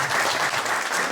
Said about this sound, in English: Tessa, the beloved Tessa, who I think deserves a great round of applause